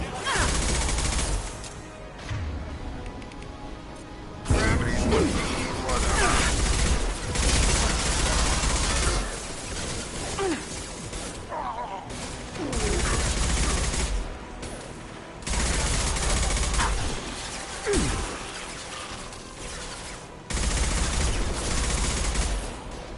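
Gunfire in Mass Effect 2, loud bursts of rapid shots coming in several separate volleys with short lulls between, over a steady background of combat noise.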